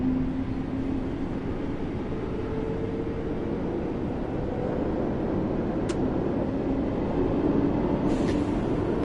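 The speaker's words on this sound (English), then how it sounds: "This train's definitely got that underground, London Underground sound to it." Class 484 electric train on the Island Line in Train Sim World 2, a steady rumbling cab drone with a faint hum, constant and fairly loud, with a couple of brief high clicks and no talk.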